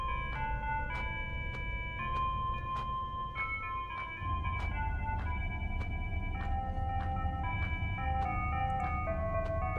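Gentle, steady game music with soft chiming melody notes over a warm low drone, playing continuously without any talking.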